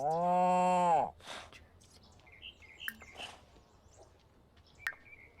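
A cow moos once in a video game, a loud, clear drawn-out low call of about a second, followed by quieter game chirps and small effects.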